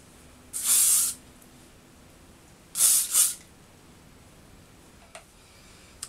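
Three bursts of aerosol hairspray hiss: one long spray, then two quick sprays in succession, with a faint click afterward in a quiet room.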